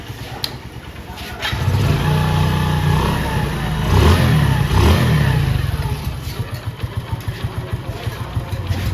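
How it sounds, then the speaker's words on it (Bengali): A Hero 100cc self-start motorcycle engine fires up and revs in several rising bursts, settling into a steady close, loud idle rumble with a rapid putter. "বন্ধুরা বাইকটাকে স্টার্ট করি।"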